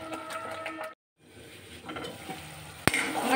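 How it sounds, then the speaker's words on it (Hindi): Spiced egg masala being stirred and roasted on a low flame, a soft continuous sizzle with spatula scrapes, a brief drop to near silence, then the frying resumes and one sharp knock rings out near the end. "अब इन सभी चीज़ों को अच्छी तरह से मिक्स कर लूँगी और धीमी आंच में इसको भूंज लेना है।"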